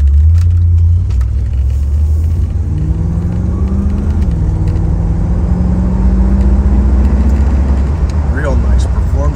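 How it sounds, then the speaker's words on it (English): A 1977 Chevrolet Corvette engine running steadily while driving, a low rumble with rising and falling engine tones, and a voice speaking at times. "Now let's take her for a run."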